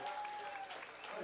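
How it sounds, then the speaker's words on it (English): A baseball crowd applauds for the North Shore Twins: dense, steady clapping that fills the whole moment at a consistent level. "we have a big round of applause for the North Shore Twins here"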